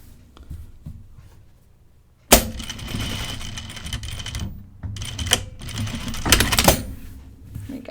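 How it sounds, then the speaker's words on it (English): A sewing machine stitches across a tunic made from the Hey June Cheyenne pattern. After a quiet start, a sudden burst of rapid mechanical stitching runs on in uneven stretches, with brief pauses and renewed spurts. "I'm going to come up and I'm going to sew across"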